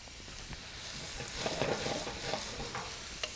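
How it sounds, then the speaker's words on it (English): Diced mirepoix simmering gently in warm oil in a pan: a soft, steady hiss and light sizzle, close and quiet, with occasional stirring scrapes. "there should be the lightest of hisses. Not searing hot, just a really beautiful simmer."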